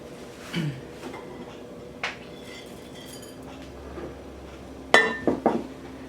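Dishes clink in a home kitchen as fried chana dal namkeen is lifted out and moved into a separate bowl, giving a few soft knocks early on, then a brighter cluster of close clinks near the end.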